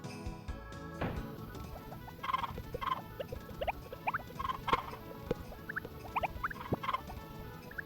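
Chickens in a coop in the video game Harvest Moon: Back to Nature cluck and squawk in short, repeated bursts over a busy game soundtrack, with fairly loud, scattered calls throughout.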